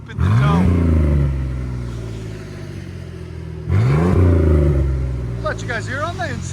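A 1992 Chevy S10 pickup with a 4.3L V6 and a 3-inch Flowmaster Super 10 exhaust revs twice to a deep, loud, throaty roar and then settles back to a rumbling idle, with a voice briefly heard near the end.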